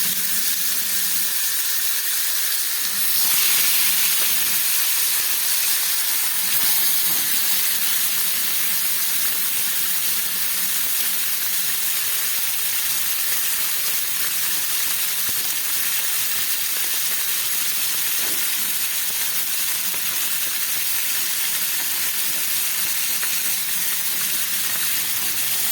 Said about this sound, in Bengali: গ্যাস কমিয়ে মাছটাকে খুব ভালো করে আমি ভেজে নিচ্ছি